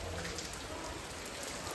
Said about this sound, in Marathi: पाऊस काय थांबायचं नाव नाही.